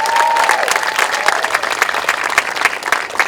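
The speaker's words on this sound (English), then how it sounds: "Let's give them and their families a round of applause." Dense audience applause greets newly elected school board members and their families at an oath-of-office ceremony, steady clapping throughout with a faint tone early on.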